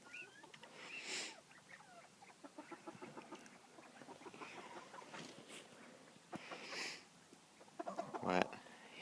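Coturnix quail and bobwhite quail kept as backyard birds make soft, scattered clucks and chirps, faint and close. Brief sharper calls break through near the end.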